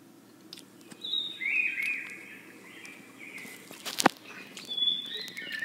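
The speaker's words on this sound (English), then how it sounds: "Hermit thrush." A hermit thrush sings a series of fluting, slightly varied phrases at moderate distance, with a sharp rustle or snap partway through and soft outdoor background.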